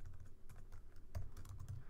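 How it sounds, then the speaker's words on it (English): Fingers typing on a computer keyboard, a quiet irregular run of soft clicking keystrokes close by. "my typing is bad"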